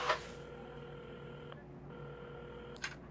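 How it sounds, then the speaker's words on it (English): A telephone dialed in the video game Assemble with Care: faint, short electronic key tones in a quiet room, one in the middle and another near the end. "at the counter, Carmen had started dialing the phone."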